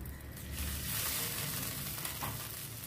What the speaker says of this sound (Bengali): সুজি দেবার পর কন্টিনিউয়াসলি নাড়াতে হবে